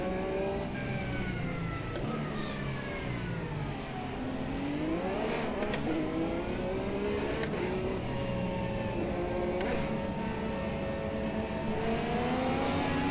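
IndyCar engines scream and rise in pitch in the Automobilista 2 racing game, several cars accelerating together off the race start, their revs climbing and overlapping in a loud, continuous, up-close roar.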